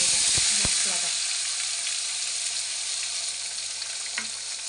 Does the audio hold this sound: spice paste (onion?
yes